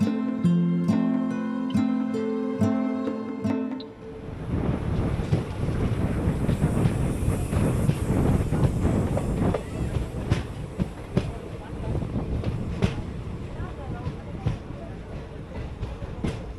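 New Jalpaiguri Intercity Express 15709 on the Malda Town to New Jalpaiguri run, with a short horn-like tonal blast at the start, then a loud continuous rattle and clatter of carriages over the rails.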